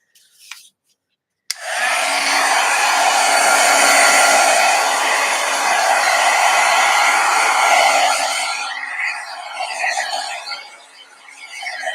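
A heat gun blows with a loud, steady rush of air for about seven seconds over an art journal page, then eases to a softer, wavering hiss as it is moved.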